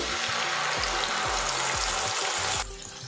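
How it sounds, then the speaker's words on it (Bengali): Ground spice masala fries in a pan for a vegetarian cabbage dish, a steady close sizzle broken by repeated low scraping knocks of stirring, which stop near the end, leaving just the hiss. "মশলাটা ভালো করে আমি কষিয়ে নেব"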